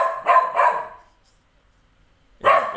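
A dog barks loudly and close by: two quick barks, a short pause of silence, then a third bark. No voices are heard.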